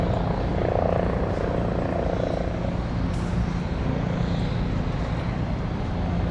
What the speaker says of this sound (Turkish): şu anda da bir tane helikopterin inişini görüyorsunuz.